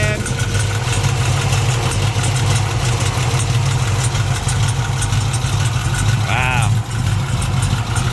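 A 1969 Camaro RS/SS with a Scott Shafiroff roller big-block and mechanical fuel pump idles steadily up close, a deep continuous low rumble throughout, with a brief exclamation from a voice near the end.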